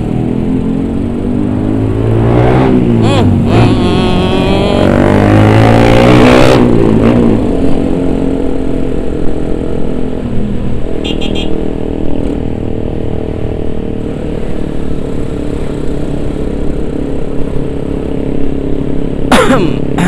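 Loud Honda Tiger and Yamaha R15 motorcycle engines roar and rev continuously on a main road, surging higher in the first few seconds before settling into a steady, rumbling idle close by.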